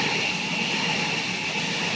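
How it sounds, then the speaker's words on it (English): A train passes by outdoors as a broad, steady rumbling roar with a hissing wash, fairly loud and unchanging across the moment, with no speech over it. "here comes the train"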